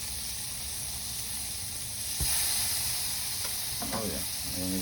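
Swordfish steaks sizzle on a grill just after being turned, a steady close hiss that swells slightly midway, with a few faint clicks and rustles near the end.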